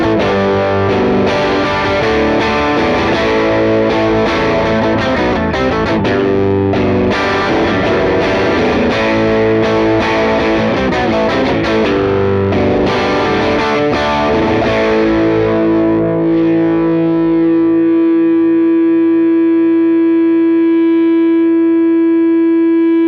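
An electric guitar roars through a cranked Matchless DC-30 tube amp, thick distorted chords and notes sustaining loudly for about fifteen seconds before ringing out into a long fading hum of feedback.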